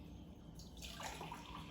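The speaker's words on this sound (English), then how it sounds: "So we start again with our carbonated water, our seltzer water." Carbonated seltzer water pours into a container, a soft rushing splash rising in brightness partway through over a faint fizzing background, quiet and close, with no voices.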